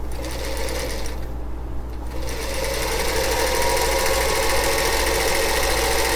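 A sewing machine runs steadily while stitching 5-inch quilt squares together, a close, continuous mechanical whir with a brief slowdown near the start before it resumes at full speed.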